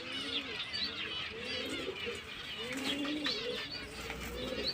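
Domestic pigeons cooing close by, a series of soft repeated rolling coos in a steady rhythm over faint background chirps.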